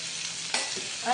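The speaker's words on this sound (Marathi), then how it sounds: "आता आपण हळद टाकूया एक चमचा काळा मसाला टाकते" Turmeric and black masala spice going into a sizzling potato and green pea curry in a home kitchen, a steady frying hiss with a brief stirring scrape midway and a brighter sizzle rising at the end.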